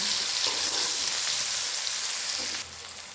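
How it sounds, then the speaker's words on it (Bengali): A spice paste of turmeric and salt fries in a pan as the base for a fish dish, giving a dense, steady close sizzle that drops slightly in level near the end, with no talking. "দিয়ে দিলাম নুন। মশলাটাকে আমি ভালো করে কষে নেব।"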